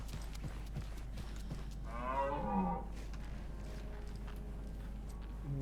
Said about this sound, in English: Did I hear mooing?